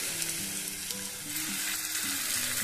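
Food shallow frying in a little oil in a pan, a continuous bright sizzle and crackle with faint low tones in the background.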